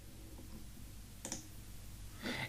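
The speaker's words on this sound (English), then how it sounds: "I click on cards." Two sharp computer mouse clicks a second apart, close and quiet against a faint room hum.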